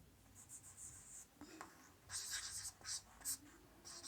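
Chalk or marker writing on a board during a mathematics class on unit digits, heard as a series of scratchy strokes in short bursts with pauses between, fairly close, with no talk over it.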